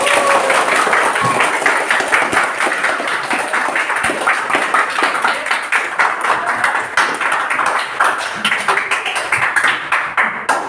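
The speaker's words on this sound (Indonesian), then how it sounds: "Silakan angkat tangan dan tepuk tangan sekeras-keras" A room of students claps hard and fast together for about ten seconds, a dense, steady wash of hand claps at close range with no talking over it.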